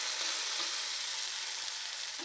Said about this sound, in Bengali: তো দেখো এখানে কিন্তু আমার এগুলো পুরো ভাজা হয়ে গেছে